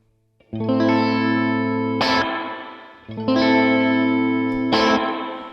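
A clean electric guitar chord rings out twice through spring reverb, each followed by a sharp percussive splash and a lingering, warbling reverb tail.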